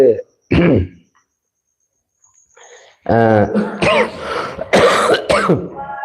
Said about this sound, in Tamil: இருமல் விட மாட்டேங்குது